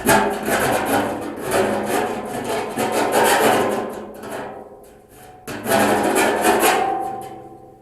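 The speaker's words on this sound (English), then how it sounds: "I think I'll take a file, go around the edge of that real quick just to make it less deadly." A metal file rasps around the cut edge of a tank during a Cadillac engine build, making continuous close scraping strokes in two bursts separated by a brief pause.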